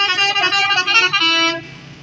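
Car horns honk in a busy street in Pakistan, a loud continuous blare of overlapping horn tones lasting about a second and a half before fading into traffic noise.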